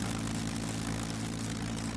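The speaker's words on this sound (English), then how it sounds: "Start the engines." Aircraft engines start up in the VR flight game UltraWings. A steady propeller drone with a strong low hum holds evenly across the short span, with no voices.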